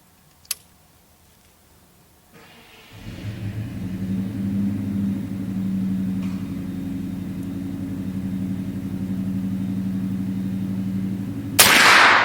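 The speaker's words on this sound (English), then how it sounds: "Y'all probably hear him fire his truck up." After a sharp click and a short quiet, a truck engine turns over and settles into a low, steady rumbling idle, with a brief loud burst at the end.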